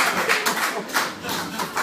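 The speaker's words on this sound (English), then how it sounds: "Moving towards where the claps were," Comedy club audience clapping in uneven bursts during a stand-up set, moderately loud and close, with the comedian's voice partly mixed in.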